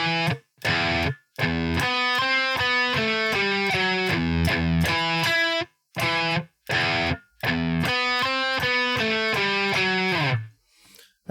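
Distorted electric guitar plays a syncopated riff of chugging chords and a short minor run, with clipped, choppy attacks separated by brief silences, loud and close throughout before ending on a held note.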